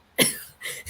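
A human voice imitates a cat coughing up a hairball with two short, raspy hacking bursts, heard alone and up close.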